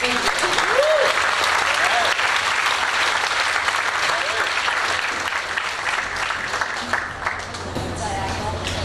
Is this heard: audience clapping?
yes